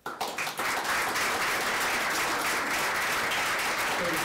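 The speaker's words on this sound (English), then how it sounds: "I'm going to ask you all to applaud again in a second" An audience at a Newton Free Library author event on The Wisdom of Morrie breaks into applause, a dense, sustained clapping from many hands that begins sharply and holds steady throughout.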